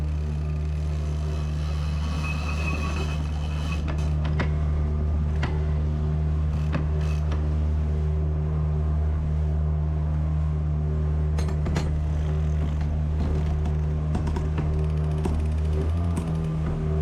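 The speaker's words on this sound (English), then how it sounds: "It's good to test the motor though, because it's a new motor, that's what you do." A newly installed outboard motor on a sailboat hums steadily throughout, a low droning tone with occasional clinks and rattles of rigging and gear on board, no talking.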